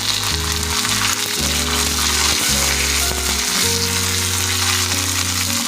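Curry leaves and garlic sizzle steadily in hot oil while cooking a quick potato stir-fry, with a loud, continuous frying crackle and no talk, under a low, sustained tonal hum.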